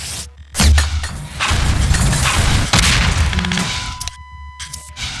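Rocket explosion in Half-Life 2 Deathmatch, a loud booming blast with shattering debris, followed by more rumbling impacts and a sharp crack before fading.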